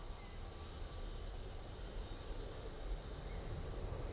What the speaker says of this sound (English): Here's the Tweef coming in from fake Melbourne using the 787-8 Dreamliner